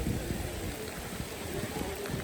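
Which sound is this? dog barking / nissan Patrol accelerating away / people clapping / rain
rain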